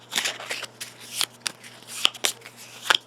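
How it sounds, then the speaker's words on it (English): Gloomhaven monster ability cards being shuffled by hand, a series of crisp riffling and flicking bursts with short pauses between them, close and clear with no talking. "So I'm shuffling up the archers' cards because it had the little shuffle symbol on it."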